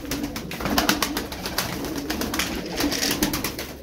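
Arab breed tumbler pigeons coo in a soft, continuous murmur, with wingbeats or cage rustling rising close by.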